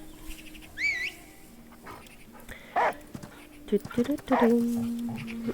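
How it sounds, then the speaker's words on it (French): In the video game The Last Day of June a dog whimpers and yips in short bursts, with a high bird-like chirp early on, all over a steady ambient game background; no one speaks. "on appelle le chien."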